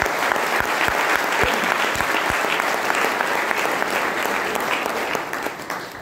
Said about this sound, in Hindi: एक बार महिलाओं के लिए आप ताली बजा सकते हैं